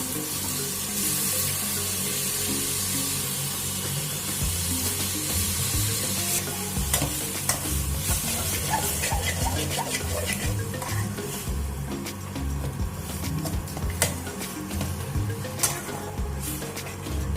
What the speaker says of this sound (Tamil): இது கூட நம்ம துருவி வச்சுருக்க மாங்காய் அதையும் அதோடு சேர்த்து நல்லா சுருண்டு வர்ற அளவுக்கு வதக்கணும்.